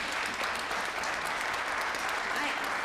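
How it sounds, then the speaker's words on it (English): Applause fills an auditorium after a youth spelling bee as the winners are honored, a steady, dense wash of many hands clapping throughout, moderately loud and without a break. "Let's give all of our winners a big round of applause"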